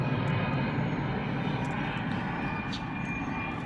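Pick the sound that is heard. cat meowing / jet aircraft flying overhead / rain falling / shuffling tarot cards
jet aircraft flying overhead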